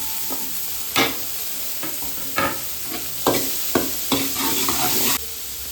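Cut vegetables and mushrooms are tossed into a pan of softened onions in hot oil, producing a steady sizzle broken by several sharp stirring scrapes and clatters, close and fairly loud, with no talking.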